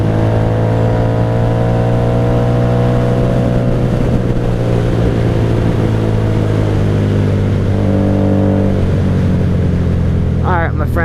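A 1997 Honda Magna VF750C motorcycle with a Vance Hines exhaust revving on a cold-weather ride, a loud deep engine drone rising and falling in pitch, with strong wind rush and a brief higher rev near the end.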